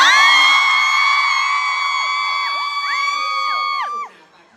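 A crowd at a live novel-launch event at Samyan Mitrtown in Bangkok gives loud, sustained high-pitched screams and cheers that waver and fall away, dropping off sharply near the end.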